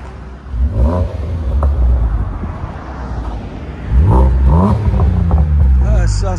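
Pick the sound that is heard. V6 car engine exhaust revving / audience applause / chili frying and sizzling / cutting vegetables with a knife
V6 car engine exhaust revving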